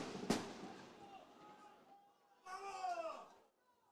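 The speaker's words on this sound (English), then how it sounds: "Fireworks continue to go off here, off in the distance." Fireworks go off at a distance near an outdoor soccer state cup semifinal. One sharp, faint pop stands out early against quiet background hiss, and a brief voice-like sound follows later.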